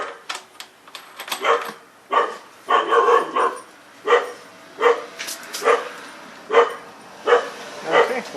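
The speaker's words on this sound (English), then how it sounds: "You hear garage puppy in the background barking at probably the neighbors." A dog in a garage barks in a string of sharp, evenly spaced woofs about once a second, moderately loud and slightly distant, with no talking over it.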